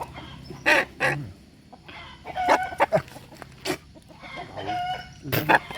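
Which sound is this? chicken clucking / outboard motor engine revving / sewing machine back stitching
chicken clucking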